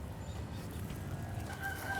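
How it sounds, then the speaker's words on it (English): A rooster crows faintly in the distance at a grandparents' yard, a thin, drawn-out call near the end over low outdoor background noise. "Those are the roosters."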